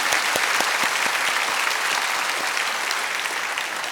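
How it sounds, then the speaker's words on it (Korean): A big round of applause from a church congregation encouraging its volunteers, loud, dense clapping from many hands with distinct sharp claps early on, holding steady and easing slightly at the close. "이리저리 수고하시는 우리 봉사자들 한번 큰 박수로 격려해 주시면 감사하겠습니다"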